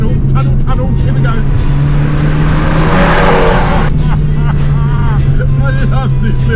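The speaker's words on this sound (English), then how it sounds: "that little crap of its exhaust, every time you put your foot down, you hear that" A small Abarth 595 Essesse hatchback accelerates through a tunnel, its engine and exhaust swelling into a loud, echoing rasp that peaks mid-way, with voices talking throughout.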